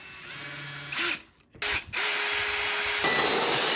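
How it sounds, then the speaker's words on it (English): A power drill whirs steadily, briefly stopping and restarting, with a harsh grinding buzz as it bores into wood close by. "use my power drill to drill some holes"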